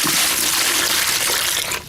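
Water gushes and splashes steadily for a couple of seconds while being poured for mixing Portland cement paint, close and fairly loud, tapering slightly at the end.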